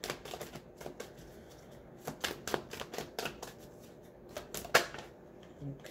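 Love oracle cards are shuffled by hand in a series of crisp, rapid riffling bursts and soft slaps, close and fairly quiet, with short pauses between runs.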